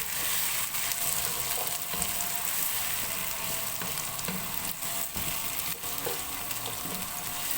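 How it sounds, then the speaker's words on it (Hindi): Cut potatoes frying in oil over a medium flame, a dense continuous sizzle with occasional soft scrapes of a spoon, close and even throughout, with no talking. "और अब आलू कटे हुए। अब इनको भी जो है वो अच्छी तरह से भून लेंगे।"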